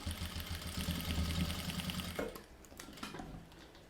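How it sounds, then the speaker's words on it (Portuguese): A sewing machine runs a fast, steady whirring stitch along the zipper channel seam of a bag, then stops and leaves a few faint clicks and handling noises. "E vou rebater aqui a minha costura do canal do zíper."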